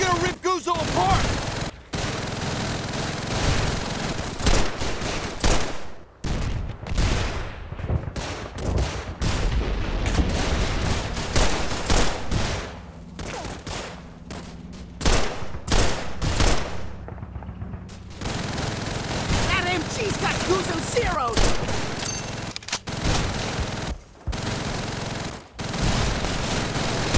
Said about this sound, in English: That MG's gonna rip Guzzo apart!